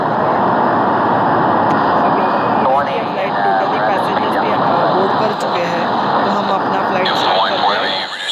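Boeing 787 airliner engines spooling up for takeoff in a flight simulator game, a loud steady roar that holds unbroken, with a voice talking over it.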